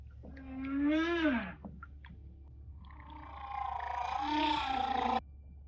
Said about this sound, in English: They took recordings of different whale songs and put them into musical notes